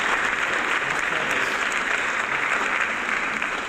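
Dense, thunderous applause from a conference audience at Build 2019 fills the room at steady full volume, with no voices rising above it.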